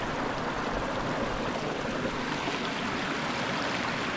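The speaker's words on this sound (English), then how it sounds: "I'm going to get some water from this stream" A clear stream on farmland in the Irish countryside flows with a steady, broad rushing wash close by.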